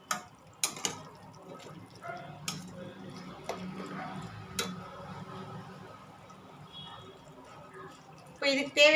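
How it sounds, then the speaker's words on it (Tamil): Water poured into a cooking pot of chicken, a steady splashing trickle with a few sharp clinks of the pot, while a voice murmurs in the background. "இந்த சிக்கன் வேகிற அளவுக்கு மட்டும் தண்ணி ஊற்றி கொஞ்சம் சிக்கனை வேக விட்டுக்கலாம்."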